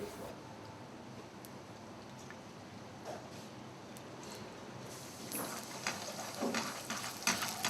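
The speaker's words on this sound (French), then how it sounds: "Prélevez le foie de la lotte, émincez-le et faites-le frire à part." Sliced monkfish liver frying on its own in a pan, giving a steady close sizzle and crackle that grows busier and louder over the last few seconds, with no talking.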